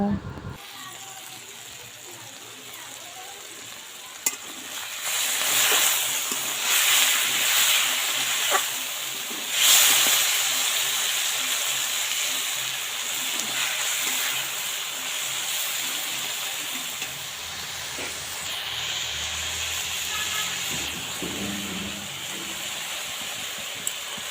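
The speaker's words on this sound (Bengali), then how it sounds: "এবার আমি মাছগুলো ভেজে নেব" Steady hissing and crackling of fish frying in oil, with voices talking over it.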